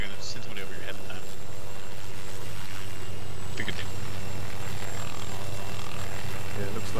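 A low-flying helicopter in the Arma 3 video game, its loud, steady engine and rotor drone filling the whole stretch over constant background noise.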